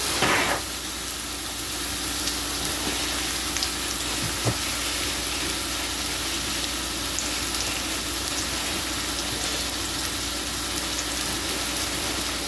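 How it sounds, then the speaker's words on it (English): A scored sirloin steak sears in a hot pan, giving a loud, close, unbroken sizzle that holds steady from start to finish with no voices over it. "let's sear it for about a minute"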